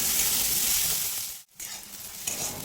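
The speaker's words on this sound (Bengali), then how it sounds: "এবার এই পেঁয়াজগুলিকেও একেবারে লালচে করে ভেজে নিতে হবে" Chopped onions with salt fry in a hot pan with a loud, continuous sizzle and hiss close by, cut briefly by a momentary break midway before the sizzling resumes; no voices.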